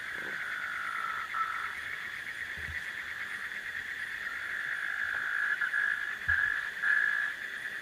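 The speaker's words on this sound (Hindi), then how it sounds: "अलग तरीके का मेंढक है" A dense, continuous frog chorus at night with a high, buzzing trill that pulses steadily, fairly close, with no voices over it.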